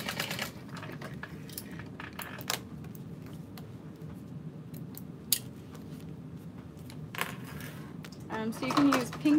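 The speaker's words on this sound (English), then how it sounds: "I'm just gently snipping in at the curves" Scissors snip into the curved seam allowance of a fabric rose handbag, giving a few short, crisp cuts scattered over a low, steady room hum, with a brief cluster of snips near the end.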